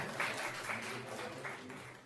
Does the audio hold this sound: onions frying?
no